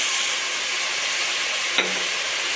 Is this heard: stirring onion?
yes